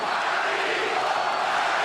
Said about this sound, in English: Crowd chanting Margarito.